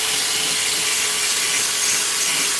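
Scotch-Brite pad scrubbing a metal 266 engine crankcase, a steady close abrasive hiss sustained without a break.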